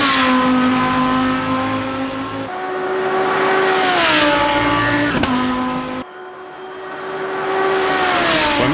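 A Lanzo Evo 2 GT3 race car in Assetto Corsa roars loudly and steadily at high revs, with repeated gear shifts marked by quick drops and climbs in pitch, and no voices.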